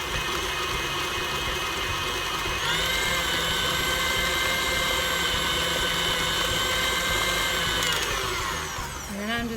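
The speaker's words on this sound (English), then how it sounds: "And we're gonna mix in the wet ingredients." An electric mixer whirs steadily while mixing wet batter ingredients, a constant close motor drone that shifts pitch slightly partway through and winds down at the end, with no voices.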